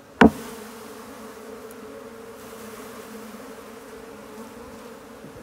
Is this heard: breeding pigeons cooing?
no